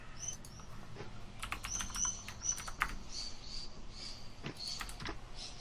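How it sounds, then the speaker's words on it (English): Faint, scattered bird chirps and high tweets sound from outside a house, in short irregular bursts over a quiet room background, with no one talking. "that was actually birds, and that must have been really loud for us to hear them outside"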